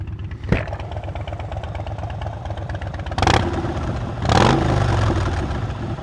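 A Harley-Davidson Crossbones motorcycle with a Vance and Hines exhaust idles with a deep, lumpy rumble, then is blipped twice into loud, throaty revs that fall back to idle.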